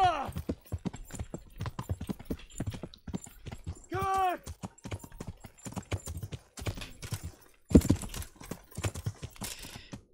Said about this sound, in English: Running through the woods at night. A great way for you to break your horse's legs.